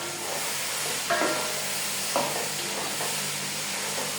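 Mutton fries with onion, garlic, dried chillies, bay leaf and salt in a pan, giving a steady moderate sizzle near the microphone with two brief louder scrapes of stirring and no speech.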